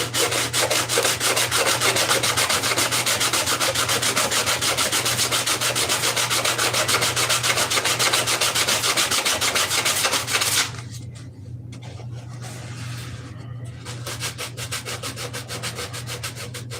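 Wood being sanded by hand with coarse 80 grit sandpaper while shaping a measurement pad, a steady rapid back-and-forth scratching that runs close and continuous, then eases into lighter, intermittent rubbing with a low hum underneath.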